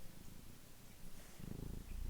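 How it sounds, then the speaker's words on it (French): A cat purrs softly nearby in a quiet room, a faint low rhythmic rumble that grows a little stronger toward the end, with no voices. "ça ronronne"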